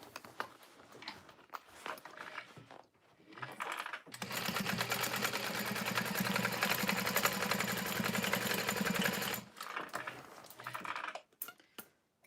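A sewing machine stitches a satchel beside the stabilizer, a steady, close motor whir with fast needle clatter lasting several seconds, framed by quieter handling noises and short bursts before and after.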